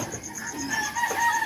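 Big chickens on a farm, clucking and calling in a steady, moderately close flock chatter with a couple of higher crowing-like tones rising partway through, no talk.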